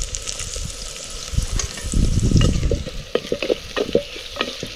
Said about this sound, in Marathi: कांदा चांगला परतला ते कढीपत्ता टाकून घेऊ टमाटर टाकून घेऊ